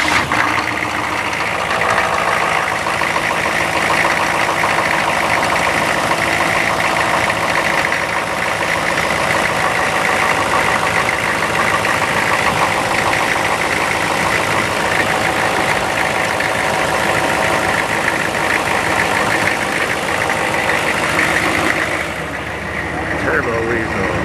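A vehicle engine idles steadily and loudly close by for over twenty seconds, a constant rumbling drone with a voice talking over it near the end.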